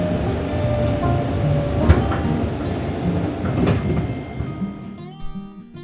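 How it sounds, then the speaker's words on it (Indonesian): A KRL commuter train from Cikarang rolls into platform 2 at Manggarai station, Jakarta. It makes a steady close rumble and clatter, and high metallic wheel squeals rise as it slows at the end. "akhirnya KRL kita memasuki peron jalur 2 stasiun Manggarai"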